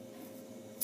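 Scissors make a single short, crisp snip while cutting a small piece of material for a homemade fishing lure, close up and quiet over a low steady room hum.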